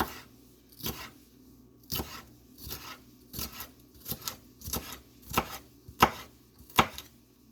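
A knife dices vegetables into small pieces on a cutting board for an eggplant omelette with peppers, about a dozen crisp chops in an uneven rhythm that grow louder toward the end, close and clear with no talking.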